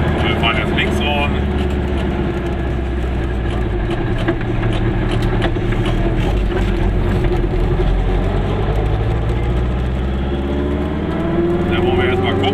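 A car drives through the village of Kastorf, its steady engine hum and road rumble continuous and close throughout, with people talking over it in German.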